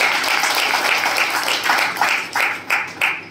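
A crowd claps at a BJP active members' conference in Tirodi, a steady wash of applause that breaks into several louder bursts toward the end.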